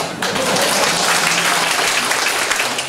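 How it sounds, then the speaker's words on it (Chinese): Audience at a Taiwanese political rally meeting bursts into dense, steady applause, many hands clapping loudly and continuously throughout without any speech over it. "好， 好，拍手。"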